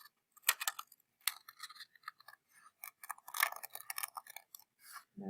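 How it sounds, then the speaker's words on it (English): Scissors snipping through paper while cutting out a craft shape carefully along a line, a series of short crisp cuts in irregular bursts, close and fairly quiet, no talk. "get your scissors and go ahead and start cutting out very carefully"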